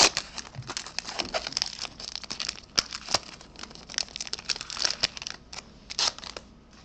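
A foil wrapper on an Upper Deck Series 1 hockey trading card pack is torn and crinkled open up close, a run of irregular crackling rips and crumples of varying loudness.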